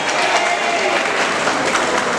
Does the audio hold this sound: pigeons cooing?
no